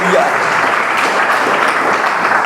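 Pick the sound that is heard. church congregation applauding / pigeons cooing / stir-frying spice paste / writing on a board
church congregation applauding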